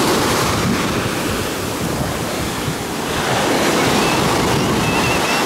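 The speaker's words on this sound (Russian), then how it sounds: "Сегодня вот немножко есть волночки." Sea waves wash steadily onto a beach in Alanya, Turkey, a broad continuous roar of small surf with wind buffeting the microphone throughout, fairly loud and close, with no voices.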